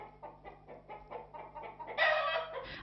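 A chicken clucking in a series of short rhythmic clucks, close and moderately loud, rising into a louder drawn-out squawk near the end.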